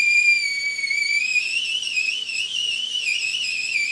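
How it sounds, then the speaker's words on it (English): A tea kettle whistles steadily as the water inside comes to a boil, a sustained high, slightly wavering tone heard alone and close. "We hear that tea kettle whistling, and so we know that that liquid inside is actually beginning to boil"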